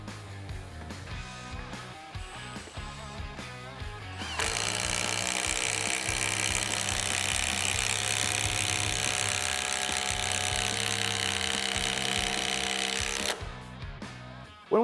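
A Milwaukee M18 Fuel impact driver drives screws in a loud, dense burst of rapid hammering impacts lasting about nine seconds, preceded by quieter handling clatter and ending abruptly, with no talking.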